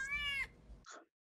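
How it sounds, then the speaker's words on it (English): Cats meowing at close range: one drawn-out, tonal meow, a short gap, then a second, rougher cry, loud and alone with no talk. "Can you please quiet down those cats?"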